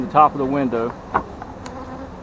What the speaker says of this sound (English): Look at this hive. This thing is absolutely massive, and the bees up here just unreal.